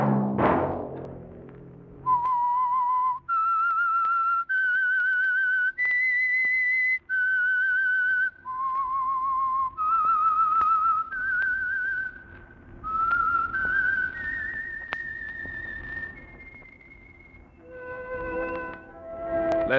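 A person whistles the eerie theme tune of The Whistler radio program alone, as a slow melody of clear, sustained notes that rise and fall, ending in a quicker run of short notes.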